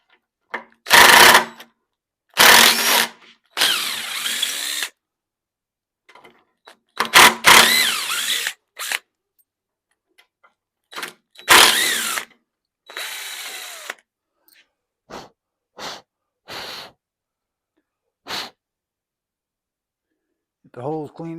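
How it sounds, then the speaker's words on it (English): Several short bursts of a power drill whirring as it backs screws out of a Maloof-style rocking chair, broken up by pauses, faint clicks and scraping. "Go ahead and pop these screws out now."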